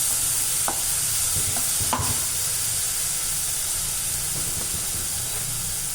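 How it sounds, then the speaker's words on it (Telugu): Crushed onions fry in a pan for fish curry, giving a steady, dense sizzle and hiss with a few light utensil taps and stirs, close and alone. "చక్కగా మంచి కలర్ వచ్చే ఉల్లిపాయని అయితే వేయించుకున్నాను"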